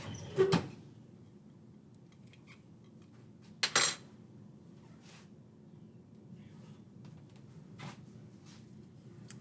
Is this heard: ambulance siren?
no